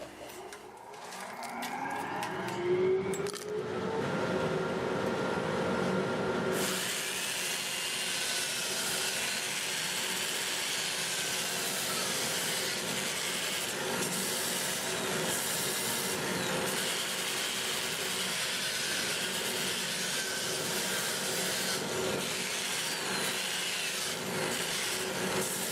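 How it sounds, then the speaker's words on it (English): A walnut bowl is sanded on a wood lathe spinning in reverse at about 400 RPM, a steady abrasive rub under the constant roar of a dust collector that switches on early and drones through the rest. "I'm going to get my dust collector going, get a mask on, and we'll get to sanding."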